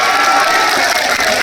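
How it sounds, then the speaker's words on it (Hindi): At a political election rally, a large crowd breaks into a loud, dense burst of clapping and cheering that fills the whole moment without pause. "पहले जोरदार तालियां बजाइएगा"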